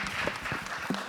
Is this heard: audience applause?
yes